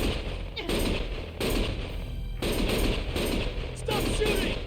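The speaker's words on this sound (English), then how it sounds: "Stop shooting!" Rapid automatic gunfire in the video game Lost Judgment comes in loud sustained bursts with short pauses between them, dense and close.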